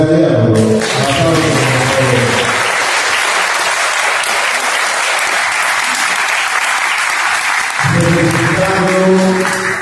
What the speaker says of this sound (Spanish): le daremos un fuerte aplauso a nuestro director general